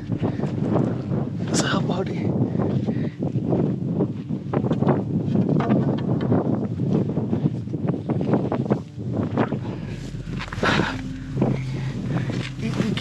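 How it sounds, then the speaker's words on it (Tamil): Strong wind gusts on Velliangiri Hills during a 2023 forest fire, a steady rushing roar buffeting the microphone throughout, with people talking over it. "என்ன காற்று அடிக்குது, பறந்து போயிடும் போல"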